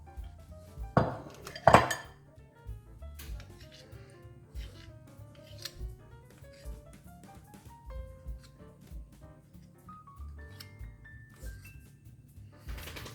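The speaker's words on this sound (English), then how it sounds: "I'll finish scraping the bowl" A spatula scrapes flourless cookie batter from a mixing bowl, with two sharp clanks near the start and then light scraping and clinking against the bowl over a low hum.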